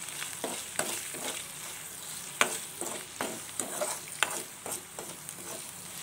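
Spices frying in a pan with turmeric added for a Telugu rasam dish, a steady close sizzle broken by repeated scraping stirs with a spoon, and no voices.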